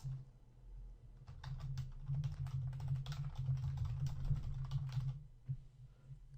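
Rapid typing on a computer keyboard while coding a checkout form, a dense close flurry of key clicks lasting several seconds before trailing off, over a low steady hum.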